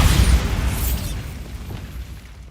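A Bombarda spell explosion in the video game Hogwarts Legacy: a heavy boom at the start that rumbles and fades away over a couple of seconds.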